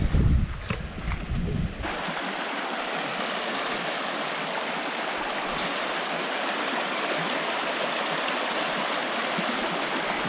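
A river stream flows on the Villa Nueva River Trail along the Pecos River, a steady broadband rush of water that starts with brief handling noise, then stays constant and fairly close throughout.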